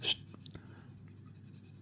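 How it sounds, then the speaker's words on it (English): Coloured pencils scratch across paper in a few brief, soft strokes, close and quiet against a faint steady background hum. "I'll make some good pencil sounds"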